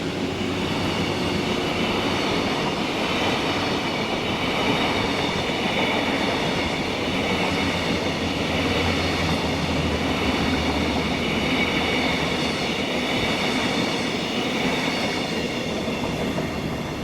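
A Class 66 locomotive in prostate cancer livery hauls empty sleeper coaches in Scotland, with a Class 73 behind. A loud, steady rumble and rolling clatter of wheels on rails continue throughout, close by and unbroken.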